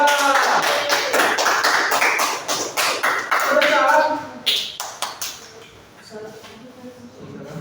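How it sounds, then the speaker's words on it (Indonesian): Classroom clapping for student groups after a geography presentation on Asia, a burst of many hands clapping in uneven rhythm that fades out over several seconds, with voices and chatter mixed in. "tepuk tangan buat kelompok 1, kelompok 2"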